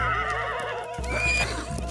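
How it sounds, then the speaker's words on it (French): Wild horses whinnying, a drawn-out neigh followed by a second high call, close and loud with some background rumble. "Les hommes vont capturer les chevaux sauvages."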